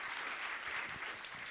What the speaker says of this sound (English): give a big round of applause to ETHGlobal